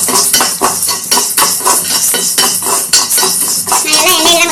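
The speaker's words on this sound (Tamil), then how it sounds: "ரெண்டையும் நல்லா வறுக்கலாம்." Black urad dal and chana dal roasting in oil in a pan, loud rhythmic scraping and clattering of a spoon against metal, close and continuous with a faint sizzle.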